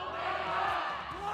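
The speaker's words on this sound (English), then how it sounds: "You hear the crowd." A crowd roars and screams at a Mobile Legends MPL Philippines Season 11 esports match, a continuous wash of cheering with a commentator's voice over it.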